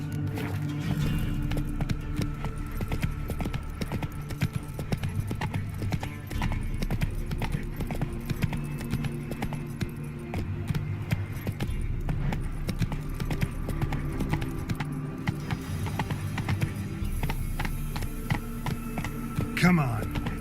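Horse hooves clip-clop at a steady galloping pace in a video game, continuous and fairly close, with a voice talking over them and occasional snorting.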